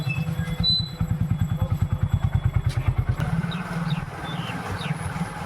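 A motorcycle rides along a rural road near the India–Bangladesh border, its engine chugging in a close, rapid, regular pulse that eases and shifts pitch midway before settling into a smoother drone with road rumble.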